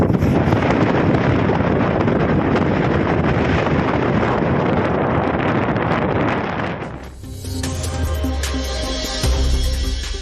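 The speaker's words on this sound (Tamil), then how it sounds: "புயல் எதிரொலியால் கடலோர பகுதிகளிலும் பலத்த தரைக்காற்று வீசுகிறது." Strong coastal winds from Cyclone Ditwa on the Tamil Nadu shore near Velankanni roar and buffet the microphone for about seven seconds, then drop into a quieter, tonal background.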